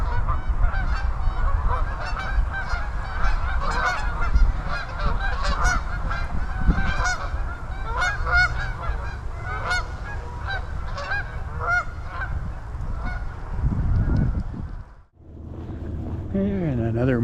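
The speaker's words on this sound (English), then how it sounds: "Get your goose fix for today." Loud, dense honking from a flock of geese along a marshy town trail, overlapping calls repeating constantly over wind noise, breaking off near the end before a few more honks.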